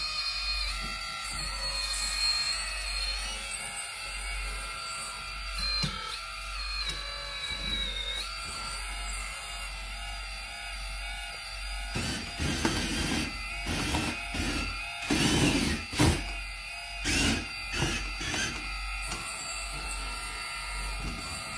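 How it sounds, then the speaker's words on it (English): A small pump running on an RC construction model, a thin steady whine with shifting tones, joined later by scraping, rubbing bursts of loud mechanical activity. "Oh, gotta turn on the pump."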